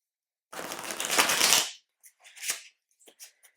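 Tarot cards in a linen finish are riffle shuffled up close: a fast crisp burst of flicking, then a few soft taps and a short rustle as the deck is squared.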